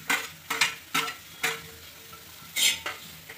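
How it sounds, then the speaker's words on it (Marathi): Onion roasts in a pan while being stirred for egg curry. A soft sizzle runs underneath, broken by several sharp scrapes and clinks of a spoon against the pan at uneven intervals. "कांदा टाकून घेऊया आणि भाजून घेऊया।"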